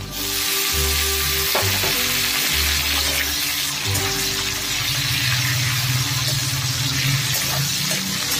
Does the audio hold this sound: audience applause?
no